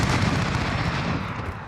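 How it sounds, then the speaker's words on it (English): Cluster strike explosions rumble in Call of Duty Modern Warfare, a dense, continuous barrage of booms and cracks that stays loud and close before easing slightly at the end. "Friendly cluster strike inbound."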